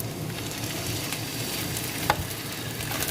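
Chicken fries in olive oil in a pan for Moroccan chicken, a steady close sizzle and crackle with one small sharp tick partway through.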